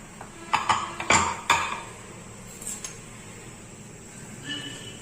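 A pressure cooker of cooked rice is opened in a kitchen: a quick run of sharp metallic clanks and clinks from the lid and pot comes up close, then a few softer knocks before it settles.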